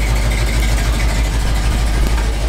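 A lifted Ford Bullnose truck idles through a custom welded exhaust, giving a steady, deep, rumbling drone close by with a low pulsing throb and no talk.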